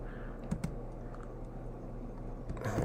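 Someone types a project title on a computer keyboard, a close run of light key clicks with a couple of sharper taps and a busier flurry at the end.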